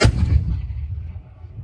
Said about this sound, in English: watch out for mortar rounds. This is what they sound like